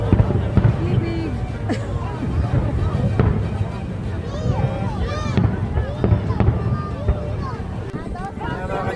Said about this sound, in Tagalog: tapos na ang fireworks display ng New Year's Eve